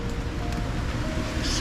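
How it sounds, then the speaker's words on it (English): Heavy rain falls steadily in Sorrento, Italy, as a dense, even hiss with no voices. "Still no let up in the rain."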